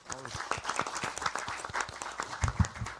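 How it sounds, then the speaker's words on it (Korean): Audience applause at a South Korean People Power Party welcoming ceremony for newly recruited members, a brief burst of clapping that rises under an ongoing speaker's voice. "큰 박수로 모시겠습니다."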